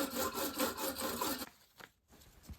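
A 10mm wide half-round brass rubbing band is cut to size for a boat, heard as steady rhythmic rasping saw strokes for about a second and a half, then a few faint handling noises.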